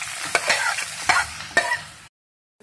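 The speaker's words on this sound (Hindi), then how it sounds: "देसी घी को थोड़ा सा गर्म होने देंगे और इसी में हमने लौकी को डाल के भूनना है थोड़ी देर।" Grated bottle gourd fried in desi ghee in a wok, with soft sizzling and a few sharp scraping strokes of a spoon stirring it, cut off after two seconds by silence.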